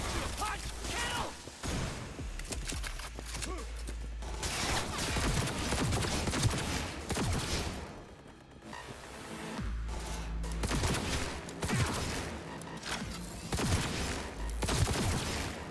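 Gunfire from the video game Cyberpunk 2077, repeated bursts and rapid volleys of shots with short pauses, loud and close, while a player talks over the action.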